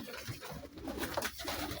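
Sialkoti pigeons coo in soft, repeated throaty calls close by, with a busy, noisy background around them.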